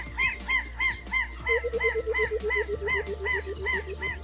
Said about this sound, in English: African jacanas are very vocal birds, using a selection of raucous shrieks, moans, and almost barking noises.